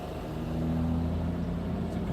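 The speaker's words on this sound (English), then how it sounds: "it's a Potomac, yeah, it's an electric truck" An electric truck, a Potomac, passes close by near a heavy rail yard in Cumberland, Maryland, giving a steady low hum with tonal whine, holding at an even loudness for a couple of seconds.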